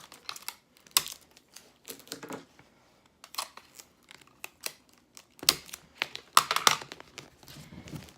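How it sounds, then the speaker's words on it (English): Tape is pulled and torn off a roll while a present is wrapped, a series of short crinkly rips and paper rustles in uneven bursts, close and fairly quiet, with a busier cluster near the end. "And then just take a piece of tape"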